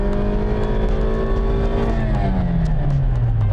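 A Chevrolet Cobalt LS accelerates hard in second gear from 2000 rpm, its engine note loud and close with a steady rising drone that climbs and then drops as the revs shift.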